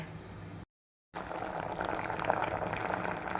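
Sweet potato tubers boiling in salted water in a covered pot, a steady close bubbling hiss after a brief moment of silence, with no voices.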